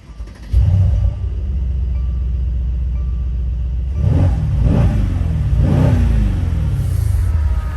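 Mercedes C63 AMG in Sport Plus with exhaust valves open, idling with a deep steady rumble, then revved hard three times in succession, each rev a loud surging roar close by, with no talk.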